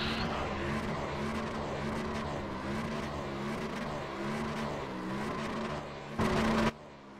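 A race car in the iRacing sim spins donuts, its engine droning continuously with rising and falling revs and tyre scrub, ending with a brief louder burst before it drops off.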